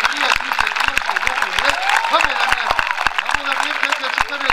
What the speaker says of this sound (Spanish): empieza a aplaudir la gente que está aquí